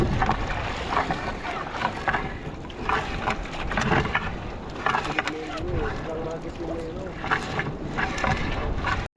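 Strong wind roars steadily over a fishing boat at sea, a dense continuous rush with buffeting gusts across the whole stretch, broken by bursts of water and hull noise, and a voice is faintly audible beneath.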